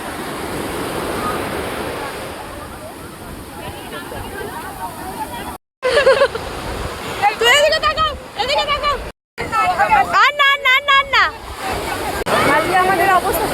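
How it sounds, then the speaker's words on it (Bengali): Waves crash and wash continuously on the shore at Puri beach, loud and close, with a crowd of voices and shrieks rising over the surf and two brief dropouts midway. "ঢেউগুলো সব সামনে থেকে উঠছে আজকে।"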